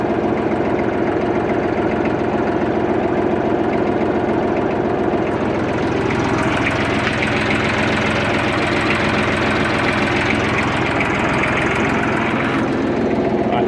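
An old tractor engine with a PTO rotavator attached runs continuously nearby with a steady, throbbing rumble that grows a bit louder partway through.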